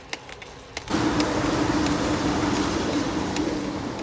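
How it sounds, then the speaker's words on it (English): A train rumbles past nearby with a steady, loud roar and a droning tone, starting abruptly and continuing throughout. "That is one very, very busy train line."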